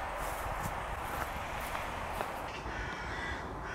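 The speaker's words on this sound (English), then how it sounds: "I can hear lots of crows over those trees." Crows caw repeatedly over trees outdoors, their harsh calls coming in a loose run at moderate distance, with soft crunching footsteps nearby underneath.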